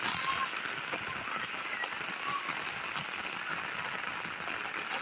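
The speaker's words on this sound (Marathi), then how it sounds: "जाम पाणी पडतं इथे." Heavy monsoon rain falls during flooding, a dense, even hiss of downpour on surfaces that holds steady throughout, with no voices over it.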